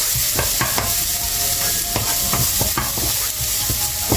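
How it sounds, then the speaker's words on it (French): Ingredients for Korean-style chicken being stirred and mixed in a sizzling pan, with repeated scraping strokes and clicks of a utensil over a steady frying hiss, no voices. "On va mélanger."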